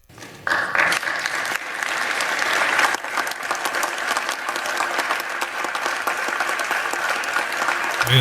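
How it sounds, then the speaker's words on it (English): Polite applause fills the Senate chamber, starting abruptly and holding at a steady, moderate level for several seconds without any talk over it. "Polite applause."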